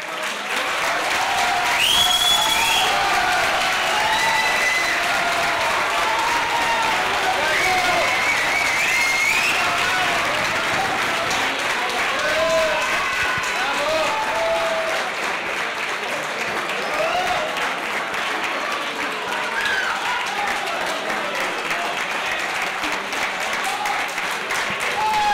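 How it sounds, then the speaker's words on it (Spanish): Sustained applause from an audience at a white wine tasting event, steady and dense clapping with crowd murmur, loud and continuous throughout. "Si me habéis aplaudido así por esto"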